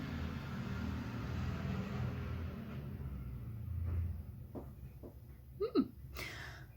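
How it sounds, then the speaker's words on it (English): A loud car rumbles past outdoors, a low engine roar that builds and then fades away over several seconds, followed by a few faint, brief background noises. "Oh, that's a loud car."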